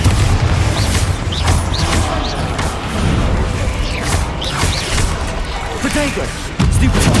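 Bombarda spell blasts in Hogwarts Legacy on PS5 Pro, with loud booming explosions and crashing impacts amid sharp magical whooshes and zaps in a busy duel, recurring every second or so.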